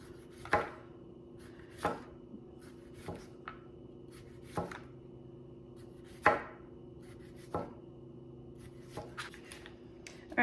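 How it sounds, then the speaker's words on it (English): Knife slicing pickles on a cutting board, evenly spaced sharp chops with short pauses between, close and fairly quiet. "go ahead and slice up my pickles"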